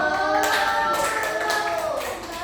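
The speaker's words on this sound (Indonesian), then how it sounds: "Tepuk tangan" Clapping from a classroom audience during a micro-teaching session, a steady patter of hands throughout with tonal voices or chatter layered over it.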